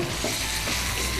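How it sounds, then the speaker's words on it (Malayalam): Fish frying in hot oil for a Kollam-style fish curry, a loud, dense, continuous sizzle and crackle that fills the short stretch without a break. "എണ്ണയിലോട്ട് മീൻ ഇടാൻ പോവുക. ചെറുതായിട്ടൊന്ന് ഫ്രൈ ആയാൽ മതി."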